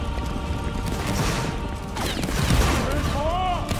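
A musket volley fires in a video game battle: a dense burst of overlapping loud gunshots and crackling booms fills the whole moment, with a swelling roar of continued fire and clatter afterward.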